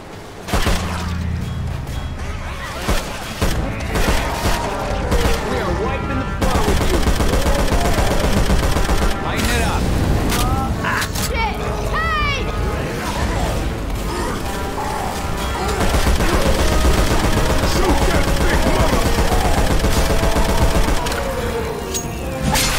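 Assault rifle fire in the video game Left 4 Dead 2 roars in long, loud, continuous bursts mixed with clanking mechanical noise and crashes, a dense barrage running almost without pause, with little talk.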